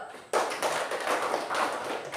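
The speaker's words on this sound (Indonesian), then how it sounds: "Tepuk tangan dulu" Classroom of students applauding a group's finished work, clapping starting abruptly after a quiet moment and continuing as a dense, even patter of many hands at moderate volume.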